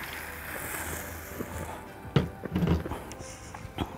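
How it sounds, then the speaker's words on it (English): Water poured into a pan of noodle gravy made with pepper and tomatoes, a short splashing pour with a few soft clatters, close and moderately quiet over faint kitchen background. "then I'm adding some water."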